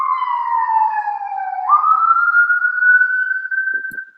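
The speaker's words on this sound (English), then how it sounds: "We couldn't even stop the sirens from ruining your introduction." An emergency siren wails outside, a loud, close single wavering tone that slides down, jumps up and holds steady, sounding alone with no talk.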